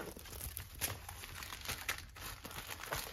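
Plastic bag of diamond painting drills crinkled and rustled as it is packed away, a continuous close crackling with small sharp crinkles throughout, fairly quiet.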